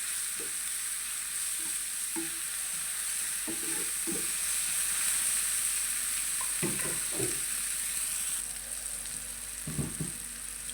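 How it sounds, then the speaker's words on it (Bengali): Onion and spices sautéing in a pan for a fish roe kebab, with a steady sizzle throughout and a few intermittent stirring scrapes, the frying hiss dropping slightly toward the end. "পেঁয়াজ মশলা ভালোভাবে কষা মজে নেব"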